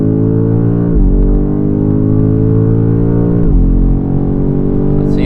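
A BMW M5 (G90) accelerates hard on the Nürburgring circuit, its engine droning loud and close with rising pitch through two gear changes, interior perspective with no talk.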